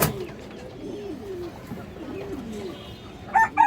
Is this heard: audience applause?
no